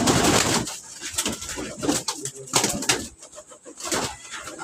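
Pigeons in a loft coo in irregular bursts amid rustling and a brief flutter of wings, loud and close, with uneven pauses between the calls.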